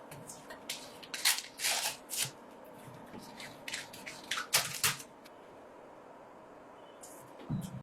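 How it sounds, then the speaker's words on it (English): Protective film being peeled off a restored bench grinder, coming away in a series of crisp crackling rips and pulls, close up, then trailing off into near quiet. "Let's peel off the protective film."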